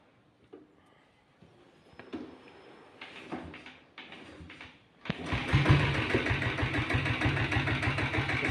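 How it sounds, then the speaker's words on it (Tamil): A Royal Enfield diesel Bullet motorcycle being kick-started, with several faint kicks and clatters before the engine catches and settles into a loud, steady, thumping idle. "அப்படியே உங்களுக்கு வந்து கிக் ஸ்டார்ட் பண்ணி காமிச்சிடும் பாருங்கள்."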